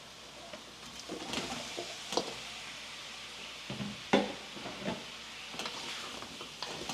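Pork is stirred back into a pan of sautéed onion and garlic for Pork Humba, giving a soft, steady sizzle with scraping stirs and light clatter, fairly quiet and close.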